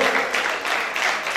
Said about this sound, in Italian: Facciamo un caloroso applauso per un lavoro veramente